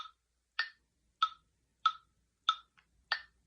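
A Soundbrenner metronome app ticks at an andante moderato tempo, giving six evenly spaced sharp clicks about 0.6 seconds apart, fairly faint against silence.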